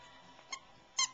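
A squeaky dog toy squeaks twice during Christmas play, a faint short squeak followed by a louder, clearer one, over a quiet room with no talk.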